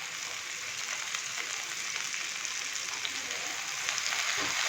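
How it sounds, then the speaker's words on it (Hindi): Chopped tomato and finely cut green chili fry in a pan with a steady, close, dense sizzle that holds even throughout and swells a little toward the end, with no voices. "और हल्का सा टमाटर को भी फ्राई कर लेंगे ताकि टमाटर थोड़ा सा नरम हो जाए"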